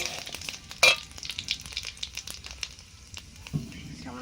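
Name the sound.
panch phoron spices and dried chillies frying in mustard oil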